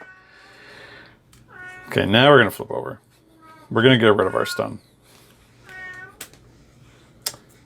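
A house cat meows in several drawn-out, rising and falling calls, close and loud, between stretches of a person talking during a Marvel Champions card game.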